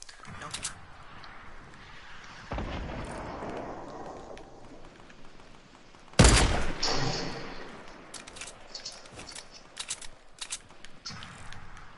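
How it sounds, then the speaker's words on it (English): Gunfire aimed at players in an online shooter, a sharp loud burst followed by scattered shots and impacts under steady chatter from several players. "Who's shooting at us from over there?"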